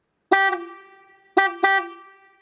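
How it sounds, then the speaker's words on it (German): Three car horn honks close by from a 2019 Dacia Duster: one short beep, a pause, then two quick beeps in succession, each fading briefly. "So hört sich die Hupe im Dacia Duster an."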